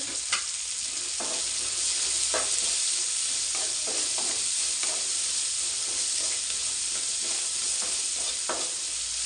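Horse gram frying in oil with salt, stirred in a pan: a steady loud sizzle with repeated scraping strokes of the spoon throughout, close up and with no voices.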